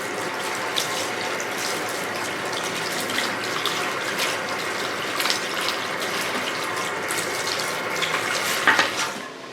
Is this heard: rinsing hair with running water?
yes